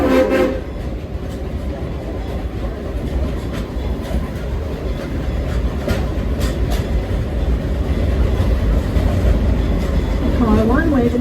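Silver Dollar City excursion train rolling steadily toward a crossing, with a continuous low rumble and rail noise building slightly louder over time, faint clacks and a brief tonal sound near the end.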